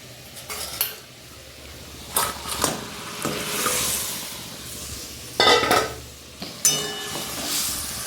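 Fish goes into a pan of sizzling mustard paste with turmeric and chili powder, a steady frying hiss broken by several sharp clatters of a utensil scraping and stirring against the pan.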